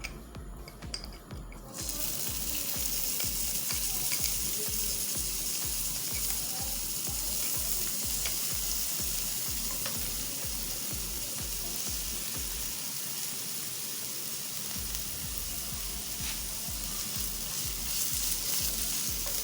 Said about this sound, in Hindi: अब इसमें डाल देंगे हम जिंजर गार्लिक पेस्ट और इसको हमने थोड़ा सा सौटे करना है